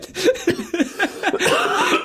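Several short, harsh coughs close to the microphone, coming in quick bursts with brief pauses between them.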